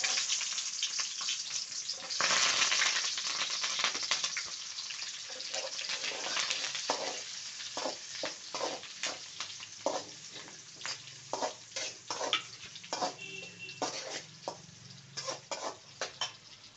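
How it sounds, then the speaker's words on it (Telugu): Mustard seeds, cumin and onion dropped into hot oil, giving a loud sizzle that settles into crackling frying with repeated stirring scrapes and spattering pops, no voices. "ఆవాలు, జీలకర్ర, ఆనియన్ వేసేస్తున్నాను"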